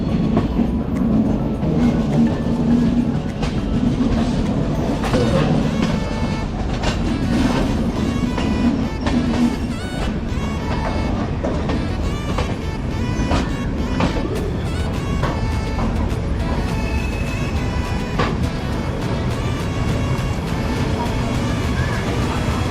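Shipra Express train running on the rails, a loud, steady rumble with dense wheel clatter throughout and faint voices murmuring beneath it.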